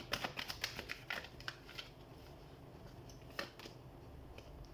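Tarot cards being shuffled, a crisp run of riffling flicks and snaps in the first two seconds, then a few softer card taps against a quiet room background.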